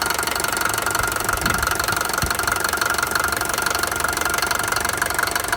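A Mercedes-Benz 190D W201 with a 2.2-liter OM601 diesel engine clatters with a steady, rapid diesel knock close up, the rhythmic tapping holding even throughout with no voices.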